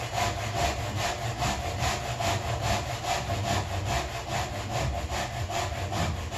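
A hand saw cuts down into wood for a double-locking overhand lap joint, with a steady, close, rhythmic stream of rasping strokes and no pauses.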